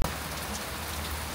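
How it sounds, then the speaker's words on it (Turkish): Steady rain falls on a hard surface close by, a dense continuous patter with no voices over it. "Yağıyor."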